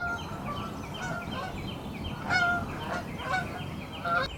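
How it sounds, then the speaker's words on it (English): Several geese honk repeatedly at a moderate distance, their calls overlapping in irregular bursts over a quiet outdoor background. "Yeah, noisy old geese again."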